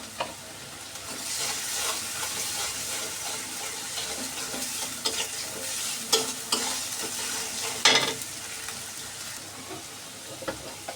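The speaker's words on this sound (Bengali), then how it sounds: "জিরে বাটা তো সুন্দর ভাজা হয়ে গেছে" Ground cumin paste fries in hot oil with a dense continuous sizzle and repeated stirring scrapes of a spoon against the pan. A few louder clanks come near the end, and no one talks.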